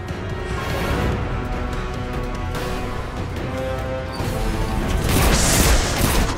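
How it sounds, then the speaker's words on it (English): Repeated booming explosions and crashing blasts roll over a dense, noisy Destiny 2 game soundtrack during the opening mission, growing louder toward the end. "Explosions for all."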